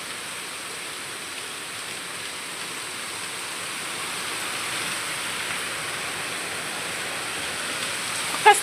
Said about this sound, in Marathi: हे लई दिवसातनं पाऊस झाला पण चांगला